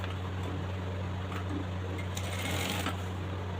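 Sewing machine stitching a trouser belt, a continuous close mechanical whir over a low steady hum, with a few faint clicks of the fabric being moved.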